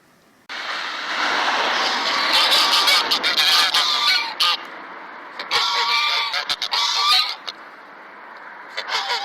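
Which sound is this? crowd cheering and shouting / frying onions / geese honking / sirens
geese honking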